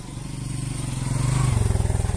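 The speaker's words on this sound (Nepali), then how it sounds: "यो मेरो बाइक दाइ आउँदै हुनुहुन्छ" A motorbike rides up at a hilltop flag park in Tarkeshwar, Kathmandu, engine thumping in a rapid even rhythm and growing louder and closer, then settling to a lower throb.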